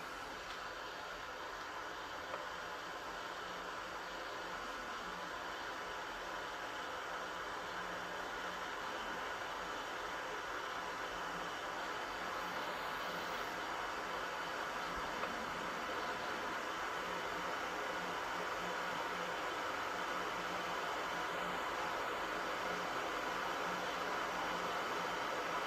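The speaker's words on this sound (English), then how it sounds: "And you probably hear now a hissing sound, so it starts to boil." Water starting to boil gives off a steady, faint, unbroken hiss that holds evenly throughout.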